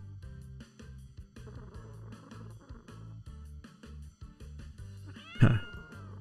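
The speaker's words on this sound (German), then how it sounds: "Eine Katze ist auf dem Baum, die kommt nicht mehr runter." A cartoonish cat stuck in a tree meows in a children's fire-brigade game, a short cry rising over a bouncy, looping game music bed, with no talking.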